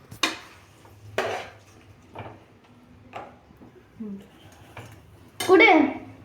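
A spoon stirs a vegetable biryani mixture with curd in a pot, giving sharp clinks and scrapes against the metal at roughly one-second intervals, with a louder scraping stroke near the end.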